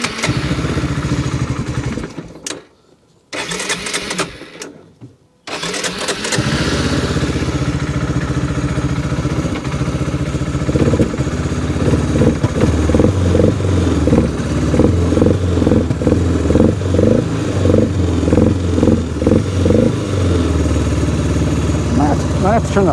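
A Polaris Sportsman 300 ATV engine runs loud and close after a few sputtering false starts, settling into a rough, clattering idle with uneven rises in revs as it keeps going.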